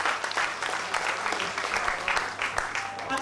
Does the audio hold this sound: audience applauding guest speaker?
yes